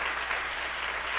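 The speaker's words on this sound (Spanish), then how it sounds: "Un caluroso aplauso." A church congregation applauds warmly during a Christian service, a steady, even wash of clapping that sounds somewhat distant and moderate in level.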